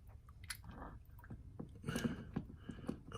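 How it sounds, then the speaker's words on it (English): Carburetor parts from a Honda 8hp outboard being swished about in a small bath of coolant cleaner, giving soft, close squelching and sloshing liquid sounds in irregular bursts. "Just get that little agitation to get the air bubbles out."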